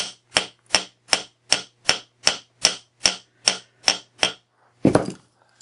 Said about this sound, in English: tap it lightly with the hammer to flatten it out